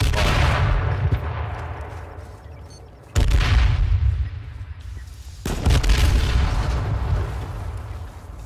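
A frag grenade blows up in a video game battle with a heavy, booming blast. Two more loud detonations follow, each with a rumbling tail, alone without talk.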